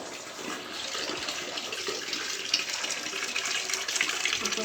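Hot water poured out to soak bedsheets, giving a steady broadband splashing rush that stays fairly loud and continuous throughout, with no voices.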